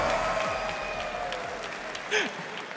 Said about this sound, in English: Unbelievable. Wow. Round of applause,